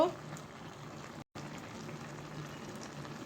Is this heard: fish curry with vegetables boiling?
yes